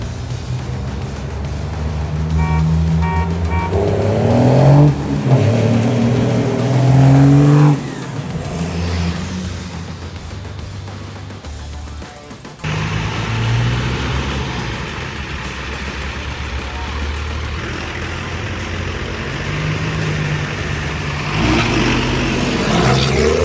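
Diesel pickup trucks drag racing, including a 1991 Ford F350 with a naturally aspirated 7.3 IDI V8, loud engines revving and accelerating hard, with a sharp break midway before another sustained roar.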